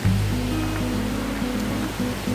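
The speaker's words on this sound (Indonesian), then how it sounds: "jadinya ketika malam teman-teman bisa mendengar gemercik air yang ada di" River water babbling right beside a campsite at Curug Cipamingkis waterfall in Bogor, a steady broadband rush with no voices.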